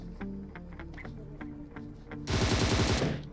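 Automatic gunfire in PUBG Mobile squad gameplay, finishing off a knocked enemy: scattered single shots first, then a loud, dense burst of rapid fire near the end.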